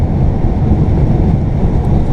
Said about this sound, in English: Pretty good waves, because it is windy.